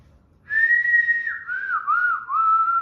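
A person whistles a clear, sustained tune up close, holding one high note and then sliding through wavering lower phrases, with nothing else heard.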